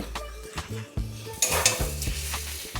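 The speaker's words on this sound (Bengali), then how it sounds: "নাড়াচাড়া হচ্ছে পাঁচ মিনিট ভালো করে নাড়াচাড়া করতে হবে" Spices sizzle and crackle in hot mustard oil for a mutton curry, with a utensil scraping and clanking against the pan in steady stirring strokes, close and fairly loud, no voices.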